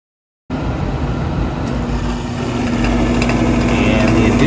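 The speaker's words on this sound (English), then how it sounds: "the inducer motor just kicked on, the fan is spinning" A furnace inducer motor kicks on after brief silence and settles into a steady whirring hum with a faint tonal whine, then grows slightly louder as the fan spins up.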